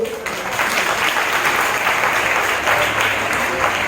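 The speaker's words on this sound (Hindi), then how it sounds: "तालियां बजाते रहिए" A school audience at an award ceremony applauds to encourage children after a costume competition, producing a dense, sustained wash of clapping that stays loud and even throughout.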